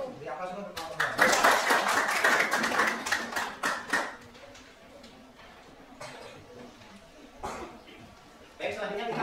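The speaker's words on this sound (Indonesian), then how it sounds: "Beri aplaus untuk kelompok 2" Audience applause for a student group during a classroom peer-teaching session, a burst of brisk, close hand clapping lasting about three seconds that fades into scattered claps, with a speaker talking afterward.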